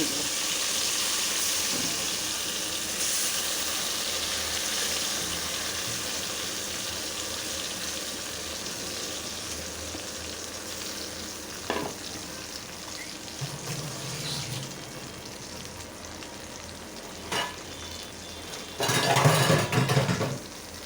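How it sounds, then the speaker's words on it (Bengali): Steady sizzling hiss of boiled, blended taro frying in oil, with occasional clinks of a utensil against a pan and a few louder scraping stirs near the end. "এখন কচুটা একটু তেলে কষিয়ে নিব"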